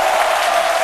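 Studio audience applauding a guest's arrival on a French television show, a dense steady wash of clapping heard alone and fairly loud for under a second.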